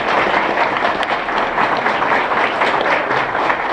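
A crowd at a political breakfast applauds, dense and continuous clapping filling the room at close, loud level throughout.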